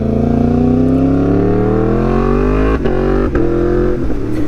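A motorcycle engine drones close and loud as the bike rides through a turn, pitch gradually climbing with a couple of brief dips in the middle.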